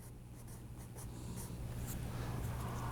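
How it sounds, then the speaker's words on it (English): A number 2 pencil scratches across paper while sketching lips, soft continuous scribbling strokes close by that grow slightly louder, with no talking. "I use my number 2 pencil, and I'm going to go in and put fewer of them"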